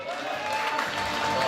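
Guests clap steadily and loudly at a Kazakh cradle celebration (besik toy), a dense, continuous applause with crowd noise and a sustained musical tone running underneath.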